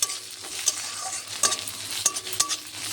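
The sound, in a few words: stirring spiced prawn curry with turmeric, chili powder, salt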